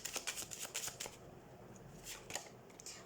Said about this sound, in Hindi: हम कार्ड शफल कर लेते हैं।